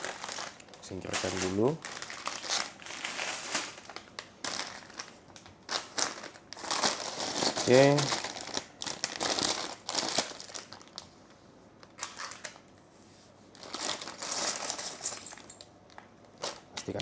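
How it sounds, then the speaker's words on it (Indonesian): A small LEGO Star Wars Invisible Hand set's plastic parts bag is torn open and handled, giving bursts of close crinkling and rustling plastic between brief spoken remarks. "Kita buka plastik bag nomor 1"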